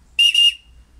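A handmade whistle with a reed being blown in a test, giving one shrill, breathy tone in two quick pulses that then fades, close and alone.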